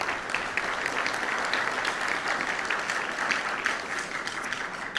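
A school concert audience applauds students in a high school auditorium, a thick, even wash of many hands clapping that carries on steadily for several seconds, loud and close, with no speech over it.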